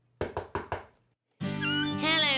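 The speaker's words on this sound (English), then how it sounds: "he heard a knock at the door" Four quick, evenly spaced knocks on a door in a children's animated tale, clear and close, followed by a pause and then a sustained tonal sound.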